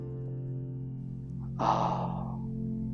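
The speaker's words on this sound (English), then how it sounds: "Breathe in." One deep breath drawn in during a slow stretching exercise, a single soft airy inhalation over a low steady hum, close and quiet.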